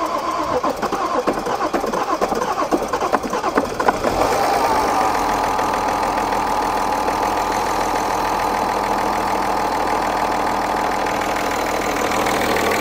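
A BMW M550d F10 diesel engine with a coolant leak cranks and catches, then settles into a steady, loud rattling idle that runs on evenly.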